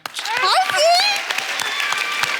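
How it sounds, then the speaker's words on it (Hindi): Studio audience applause and cheering on a comedy talk show rise under loud overlapping voices and shouts, with a whistle-like tone sliding through the noise. "जोरदार तालियां एक बार"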